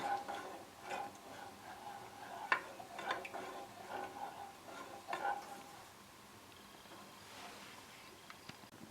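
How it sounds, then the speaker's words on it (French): Hot spiced chocolate stirred with a spatula in a pan just taken off the heat, with soft repeated scrapes and light taps in a loose rhythm, close and quiet against a faint background hiss. "on sort du feu et on continue à tourner à la spatule"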